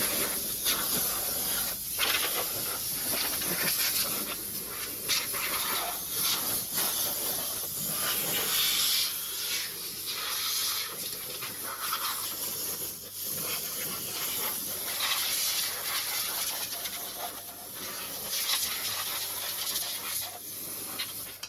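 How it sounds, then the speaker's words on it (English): An air blower clears debris off a BMW X5 engine, a steady, loud hissing rush of air that runs throughout with slight fluctuations in intensity. "get yourself a blower and you just want to blow off any debris"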